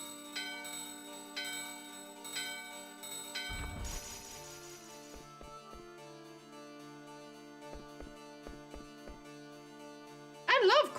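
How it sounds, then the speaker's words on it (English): A bell rings in the Final Fantasy IX video game, heard as a few bright struck tones over layered game music, followed by a crash and a run of short tapping sound effects, with a sharp chime burst at the end. "Ring the bell."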